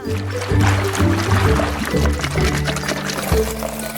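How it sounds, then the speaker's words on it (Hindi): Water pours steadily into an aquarium as it is filled, a continuous splashing flow running for several seconds at close range. "मैं इसमें पानी भर देती हूँ।"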